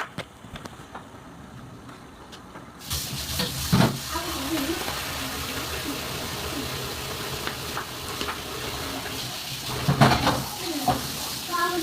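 Jengkol frying in a pan, a sizzle that bursts in abruptly and then holds steady and close, with stirring clatter and a voice at times.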